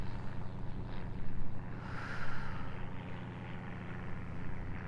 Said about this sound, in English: We have boats and planes going by today.